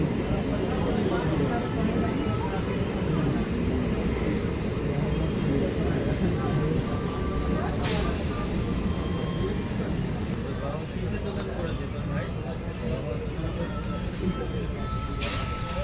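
A Bandel–Howrah local train rolls into Baidyabati station at dawn, a steady loud rumble of wheels on track with brief high metallic squeals, while a voice speaks over it.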